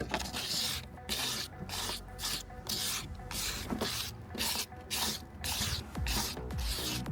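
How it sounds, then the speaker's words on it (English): Rhythmic back-and-forth rubbing of wet sandpaper on a plastic Mustang taillight, steady hissing strokes repeating about twice per second, close and alone. "Wet sanding."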